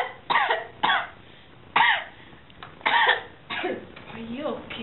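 A person coughs repeatedly in a classroom, about five sharp, harsh bursts spread unevenly over a few seconds, close and fairly loud, with a short throaty, voiced sound near the end.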